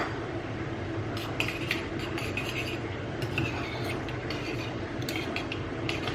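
A spoon scrapes and clinks against a bowl while a yeast mixture for homemade bread is stirred, bright metallic ticks repeating irregularly over a steady low room hum, close and moderately loud.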